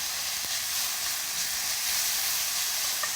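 Beef stir-fries in a pan over moderate heat, giving a steady, close crackling sizzle with a faint tap or two of a utensil and no talking.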